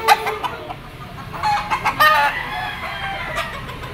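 A yellow-legged gamecock rooster of Lemon sweater bloodline clucks and crows close by in a noisy outdoor setting, with short clucks around a brief crow, no talking heard.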